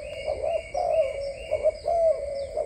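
Imported Malaysian dove cooing in a steady run of smooth, rolling coos, close and fairly loud, with short pauses between phrases and no talking.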